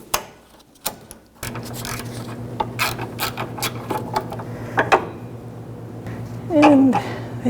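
Locking pliers ratchet and clamp onto a front sway bar link on a 1998-2002 Honda Accord, giving a series of close, sharp mechanical clicks and scrapes over a steady low hum.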